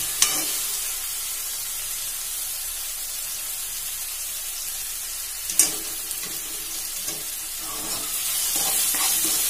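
Shevai vermicelli roasting in a pan makes a steady hissing sizzle, with a sharp scrape midway and lighter stirring sounds afterward.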